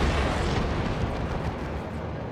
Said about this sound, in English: Here's the Wraith Cannons. Boom.